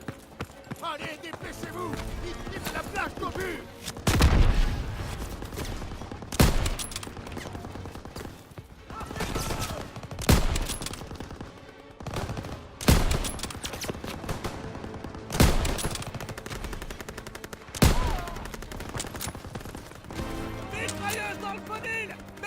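Machine gun fire and other gunfire on the D-Day beach in the Call of Duty WWII campaign: bursts of rattling shots and loud explosive cracks recur every few seconds under shouted soldier dialogue and battle noise.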